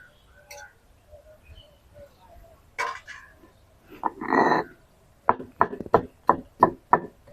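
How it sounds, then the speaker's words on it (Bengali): Fresh ginger is ground to a fine paste on a traditional grinding stone, with soft, uneven scraping early on, then a run of six or seven loud, evenly spaced grinding strokes close by. "এবার আদাগুলোকে একদম মিহি করে বেটে নেবো"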